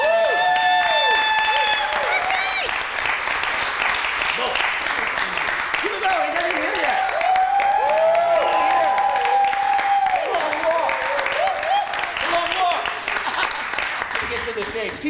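A comedy club audience claps and cheers continuously as a comic is introduced, a dense, loud crowd wash with whoops, while a voice speaks over the noise.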